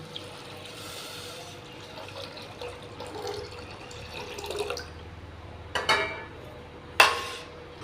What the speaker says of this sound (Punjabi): ਹੁਣ ਆਪਾਂ ਇਹਦੇ ਵਿੱਚ ਪਾ ਦਾਂਗੇ ਜੀ ਪਾਣੀ